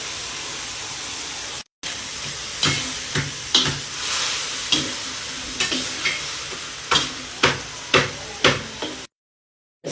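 Frozen coconut milk and water spinach cooking in a pan, with a steady sizzle broken by repeated stirring and scraping knocks, fairly close and with no talking.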